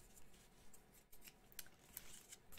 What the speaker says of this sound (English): Just the job for a pair of Fiskars.